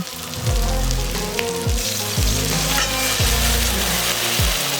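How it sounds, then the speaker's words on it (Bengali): Water from rinsing the spice bowl hits spice paste frying for Bengali katla fish curry: a loud hissing sizzle with rhythmic scraping strokes of a spatula stirring the pan, steady throughout. "এবারে এই মশলাগুলোকে আরও ভালো মতো কষানোর জন্য দিয়ে দেব মশলার বাটি ধুয়ে রাখা জল"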